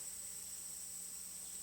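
Crickets and cicadas in a quiet meditation setting make a faint, steady, high-pitched chirring drone that holds evenly throughout with no breaks.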